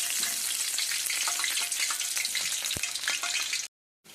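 Vegetarian snack pieces deep frying in hot oil, a steady close bubbling sizzle that carries on for several seconds before cutting out abruptly.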